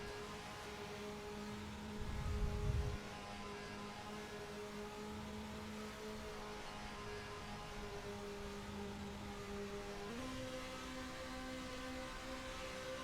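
Formula racing cars hold their engines at the rev limiter for a safety-car restart at Interlagos in a racing video game, a steady buzzing engine drone that rises in pitch near the end as the field gets away.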